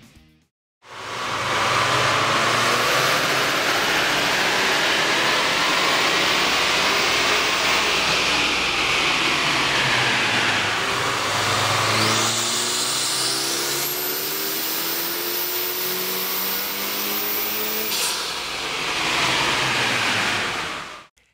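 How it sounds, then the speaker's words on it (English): A Kia Optima or Hyundai Sonata 2.0L engine with an aftermarket air intake runs on a dyno, a loud, sustained broadband roar that climbs steadily in pitch, drops back, then climbs again before cutting off. "we ran the vehicle on the dyno to test the sound comparison versus the stock intake"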